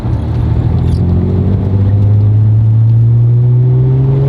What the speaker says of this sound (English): you press the gas and the car just goes